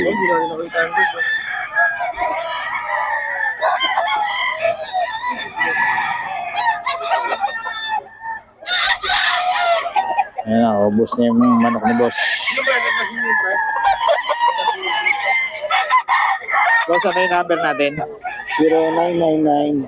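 Many chickens cluck and roosters crow repeatedly in a busy yard, while someone talks over the birds throughout.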